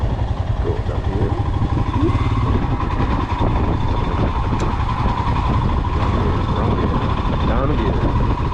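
Motorcycle on a morning ride, a continuous loud engine rumble with road and wind noise, steady throughout and heard from the rider's position.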